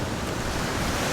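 Gulf of Mexico waves in Destin, Florida, wash in right up to a beachfront RV campsite, a loud, constant roar of surf and water mixed with wind buffeting the microphone, with no talking.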